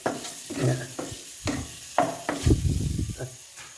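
Onions sautéing in oil with salt and pepper in a pan, with a soft sizzle under repeated scraping stir strokes close by, in short bursts at roughly half-second intervals.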